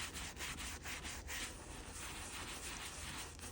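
A soft cloth rubs in gentle circles over the leather base of a vintage Coach Rambler bag during cleaning, a close, quiet, continuous scrubbing texture with no talking.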